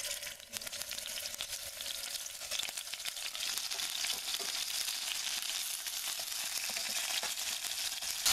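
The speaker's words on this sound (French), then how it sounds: "Et après, je vais faire saisir le poisson." Fish searing in about a tablespoon of hot oil in a pot, a steady, dense sizzle and crackle that keeps going without pause and with no one talking.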